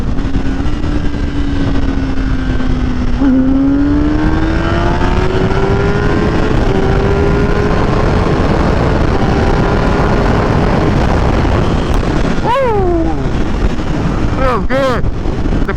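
A 2021 Kawasaki Ninja ZX-10R engine revving and pulling hard, its pitch climbing through gears with quick shift breaks, buried under heavy roaring wind buffeting the rider's microphone.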